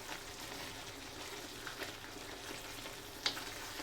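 Fish curry with carrots and potatoes being stirred in a pan: quiet, steady sizzling with soft scraping and a sharp clink near the end, no talking.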